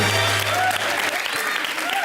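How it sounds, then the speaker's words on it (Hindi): Loud studio audience applause on an Indian television comedy show fills the clip, dense and continuous clapping from a large crowd with some voices underneath. "जोरदार तालियां"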